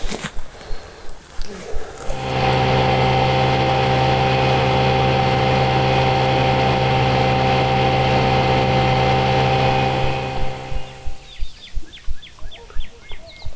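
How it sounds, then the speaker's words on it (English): A boat motor drones steadily for several seconds, loud and close, then fades as it cuts back, with rhythmic clattering before and after. "Don't forget about the boat pulling up."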